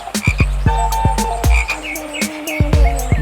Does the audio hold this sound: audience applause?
no